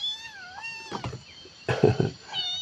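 A kitten, missing its mother, mews in a few thin, wavering, high-pitched cries near a temple in Chae Hom, Lampang, Thailand, with brief rustling and handling noises in between.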